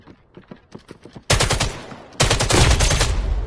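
Gunfire in the VR shooter Vail VR: a few quick light shots, then two loud sustained bursts of rapid automatic fire, close and dominant, with no talking.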